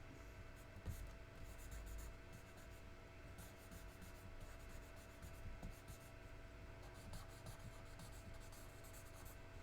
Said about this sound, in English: We're just spreading the pencil around.